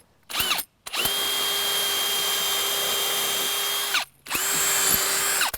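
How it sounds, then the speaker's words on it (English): A power drill pre-drills bolt holes while a 100 ft retractable garden hose reel is mounted, with three sustained high-pitched whirring bursts that start and stop abruptly, loud and close, the middle run lasting about three seconds. "I'm just gonna grab a drill bit that's a little bit smaller than these bolts,"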